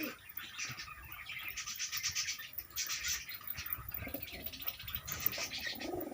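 Pigeons pecking at scattered wheat grain in a loft beside double-tiered cages, with steady soft cooing and chirps close by and a light scratchy pecking texture throughout.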